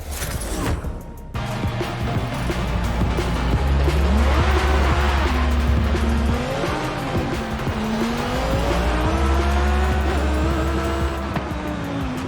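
Lamborghini Huracan Performante racing in Forza Horizon 5, engine revving up and down through gear shifts with rising and falling pitch, tires squealing, loud and continuous.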